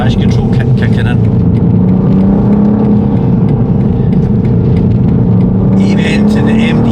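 A 2023 BMW M2 (G87) pulls hard on the road under strong power, its engine note droning low and rising steadily, loud and close from inside the cabin, with a voice talking over the top.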